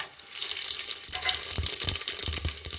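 Spice masala hits well-heated oil in a pan for Marathi masale bhaat, giving a steady, close hiss of sizzling with crackling pops strengthening toward the end.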